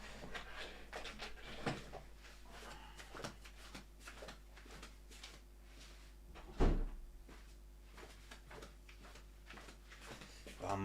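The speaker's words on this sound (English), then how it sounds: "There's a door that's banging a bit because of the wind." A door bangs in the wind indoors, giving faint repeated knocks and rattles over a steady low hum, with one louder thud partway through.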